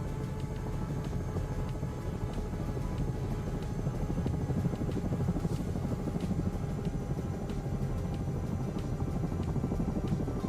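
A helicopter rotor spins down after landing in MSFS 2024, a continuous dense engine and rotor drone with a faint rhythmic thump, steady and close throughout.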